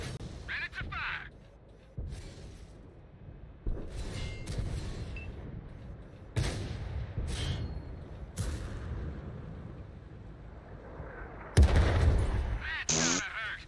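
A tank's main gun fires repeatedly in a video game, with heavy booming blasts spaced a few seconds apart over a rumbling engine bed and occasional talk.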